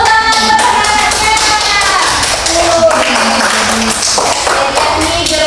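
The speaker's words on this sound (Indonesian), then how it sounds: "tepuk tangan buat anak-anaknya" A classroom of students bursts into a round of clapping, dense and close, with children's voices chattering and calling out over the applause.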